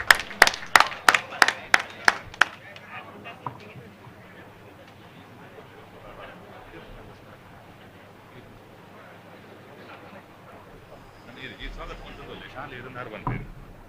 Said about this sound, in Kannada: ಚಪ್ಪಾಳೆ ಮಾತೇರ್ನಲ್ಲ.